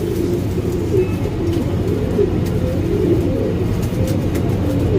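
Pigeons coo in low, repeated throaty calls over a steady background murmur, several birds close by in a pigeon loft, with no voices.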